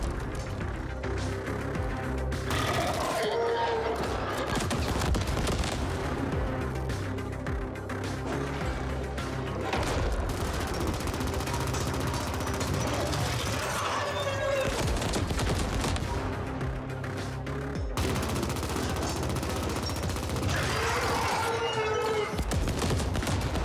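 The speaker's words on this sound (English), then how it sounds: "I can like lift my gun up even with the automatic rifle." Sustained automatic rifle fire from The Ascent, a dense, loud fusillade of rapid shots running almost without pause, with brief bursts of impact crashes and louder swells along the way.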